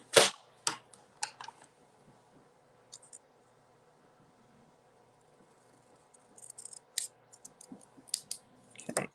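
Scissors snipping paper during a card-folding craft, several sharp close clicks and cuts in short bursts at the start and again near the end, with quiet handling between.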